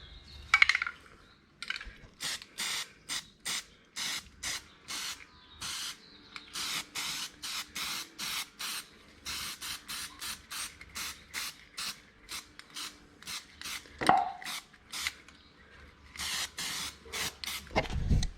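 Short repeated hisses of a spray gun painting metal link bar brackets in a paint booth, many quick bursts in an irregular rhythm, fairly close, with faint workshop clatter and no talk.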